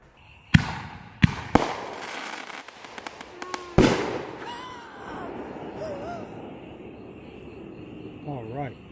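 Consumer firework cake of the Fixin' to Fire type launching shots skyward: several sharp loud bangs and pops early on, then rising whistles and crackling tails fading into a lingering hiss, with faint voices in the background.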